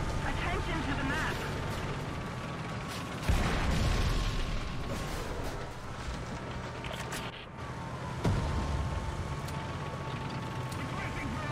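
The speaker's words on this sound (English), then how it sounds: "The enemy is preparing to barrage our square!" Booming artillery explosions in War Thunder ground battles land over steady engine and battle noise, with two heavy blasts at separated moments amid an ongoing rumbling din; talk runs faintly through the mix.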